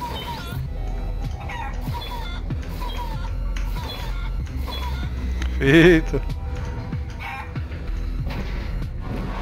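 Chicken clucking in the video game Guacamelee 2, a short burst of clucks rising briefly above steady game music while someone talks over the gameplay.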